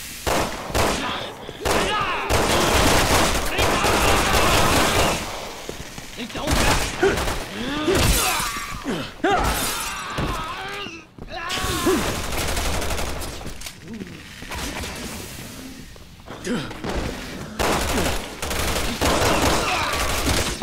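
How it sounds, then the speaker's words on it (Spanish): Repeated bursts of gunfire crack through Resident Evil 6 gameplay, with rapid volleys and single shots coming close and loud over about twenty seconds and brief pauses between them, while a voice speaks now and then. "¡Qué disparo le metí a este!"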